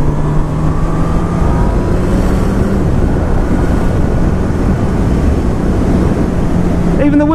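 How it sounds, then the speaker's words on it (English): Wind blast roaring past a rider on a 2019 Honda CB1000R Plus naked motorcycle at high speed, a loud constant rushing buffet with a faint engine hum beneath. "Even the wind blast at some quite high speeds, shall we say, I'm doing now, wind blast isn't too bad."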